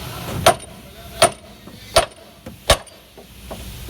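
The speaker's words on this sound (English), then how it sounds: "give a couple smacks to this part with the hammer, and it should just pop right out" A hammer strikes a front strut suspension part on a 2015 Lexus IS 350 F Sport four times at an even pace, sharp metallic smacks close up, with a lighter tap between the last two.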